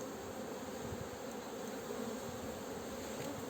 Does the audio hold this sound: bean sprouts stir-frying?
no